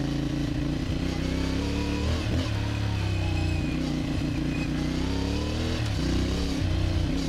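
CF Moto MT450 off-road motorcycle revving loudly and continuously close by, engine pitch rising and falling as the rear wheel locks and skids, with clattering from the ride.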